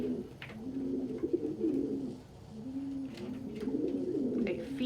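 A domestic pigeon coos in soft, rolling phrases, close and fairly quiet, with a short pause between two bouts of low, throaty calls.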